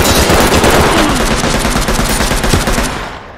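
Rapid automatic gunfire bursts in a shooter video game, loud and dense, firing continuously for a few seconds with no talk over it.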